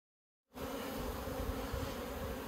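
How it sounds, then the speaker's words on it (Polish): A honeybee swarm buzzes at the hive after a brief silence, a dense, continuous hum of many wings close by, with no other sounds over it. "Czyżby tu się rój zbierał?"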